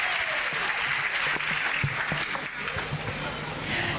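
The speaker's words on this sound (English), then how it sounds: "As people of God, clap cheerfully for Jesus Christ." A church congregation claps steadily and loudly, a dense sustained applause filling the space, with a few voices mixed in.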